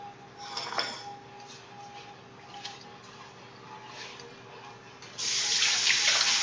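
Tap water at a kitchen sink while hands are washed during cookie baking, a quiet trickle with small clinks that swells into a louder, fuller rush near the end.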